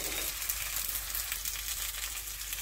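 Mixed-flour thalipeeth frying in oil on a pan, giving a soft, steady sizzle and crackle heard close and fairly quiet, without speech.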